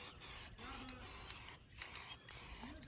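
An aerosol spray paint can lays a light coat on a Chevrolet Cobalt brake part, making short close hissing bursts separated by brief pauses, quiet overall.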